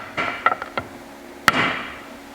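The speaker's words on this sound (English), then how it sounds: "the best way to do that is with a block of wood and a hammer" A small metalworking hammer strikes a block of hard Jarrah or red gum wood, giving several sharp close knocks in an uneven cluster and then one louder, ringing blow.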